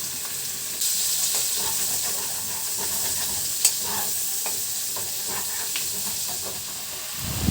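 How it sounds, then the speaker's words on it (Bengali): Garlic and onions fry in a hot pan with a steady, close sizzling hiss and a few small stirring clicks and scrapes. No one speaks over it. "রসুনটা ভাজা হওয়ার সঙ্গে সঙ্গে আমি পেঁয়াজগুলো দিয়ে দিলাম"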